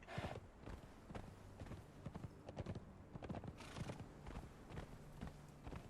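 A horse ridden in Conan Exiles gives rhythmic clip-clop hoofbeats with a brief whinny, close and fairly loud, with no talk over it.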